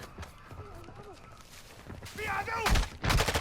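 Call of Duty gameplay: sporadic gunfire crackles in the distance, then two sharp, louder bursts near the end, with voices talking over the action.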